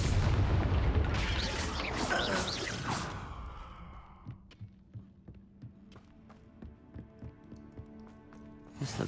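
Confringo, a fiery explosion spell in Hogwarts Legacy, bursts loudly at first with a roaring blast that fades over a few seconds, followed by quieter scattered clicks and thumps of game sound.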